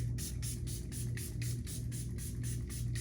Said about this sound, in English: So I'm gonna go in with this and spray it all over.